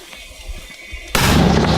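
A quiet outdoor background on the Bakhmut front is broken by a sudden, powerful boom of an artillery shot that rolls on as a heavy, sustained roar.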